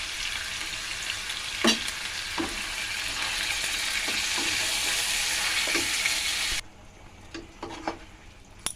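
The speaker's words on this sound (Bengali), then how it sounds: "মাংসটা এখন আমি কষাবো।" Meat sautéing in a pot for biryani, seasoned with salt and a little turmeric, gives a steady close sizzle broken by a few scraping stirs, then drops sharply quieter near the end with scattered clinks.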